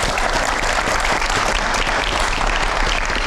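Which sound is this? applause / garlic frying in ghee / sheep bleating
applause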